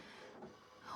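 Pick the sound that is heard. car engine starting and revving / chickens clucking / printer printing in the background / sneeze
printer printing in the background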